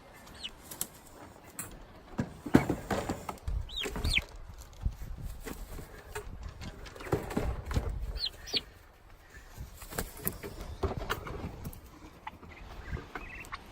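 Four turkeys outdoors on grass: soft clucks and chirps with occasional wing flaps and rustling, moderately close, no talking.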